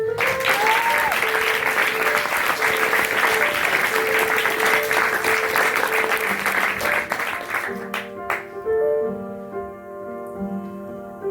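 An audience in a hall applauds itself for several seconds with dense, steady clapping over background music, fading out as the music carries on alone.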